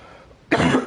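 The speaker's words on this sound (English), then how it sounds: "I start coughing." A single person's cough bursts out loudly and close after a quiet lead-in, one harsh throat-clearing hack that holds for a moment, with no speech over it.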